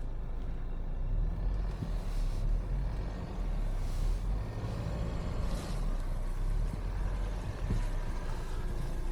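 A Ford Bronco Sport grinds along off-road in a low gear, its engine droning steadily as the wheels slip and spin with a rough, continuous churn, heard from inside the cabin with no one speaking.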